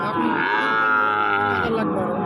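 Sahiwal cattle moo at a livestock market: one long, loud, close bellow with a rich harmonic tone that holds steady and then falls away near the end, with no talk over it.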